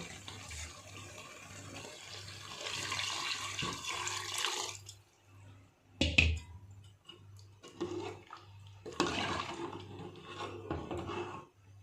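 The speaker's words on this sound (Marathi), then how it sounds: "त्याच्यामध्ये आपण गरम पाणी टाकून घेऊ." Hot water is poured into chicken cooking in masala, heard as quiet splashing pours in a few separate bursts with short pauses between them.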